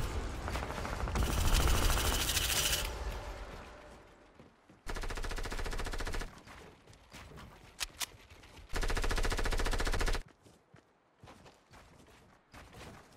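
Rapid automatic weapon fire in a console shooter game, a long sustained loud burst followed by two more cut-off bursts with quieter gaps between, no talking over it.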